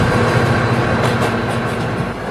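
A loud train rumbles steadily past close by, a continuous heavy roar of rail wagons with broadband noise and no voices.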